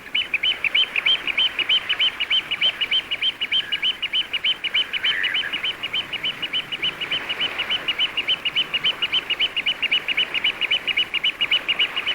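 Lapwings in winter plumage on British wetland or farmland, heard as a rapid, evenly repeated chirping call running without pause, bright and fairly close, over a soft wash of background noise and with no talking.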